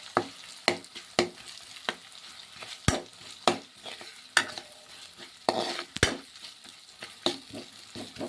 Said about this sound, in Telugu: కారం, తగినంత కారం వేసి బాగా ఇలా మిక్స్ చేసుకున్నాం.